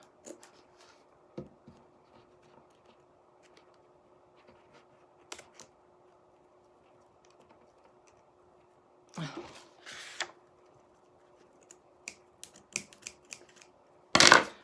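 Sparse snips and paper rustles, a few scattered clicks, and a louder burst of cutting or crinkling near the end over faint room hum.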